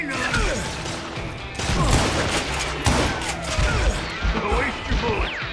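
Repeated gunshots ring out in the Western shooter Call of Juarez: Gunslinger, sharp cracks and impacts landing in bursts over a loud, busy game mix with voices and effects around them.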